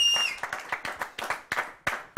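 Studio audience applause on an Iranian dinner-party TV show, a run of separate bursts of clapping rising and fading in uneven waves, moderately close, with no talk over it.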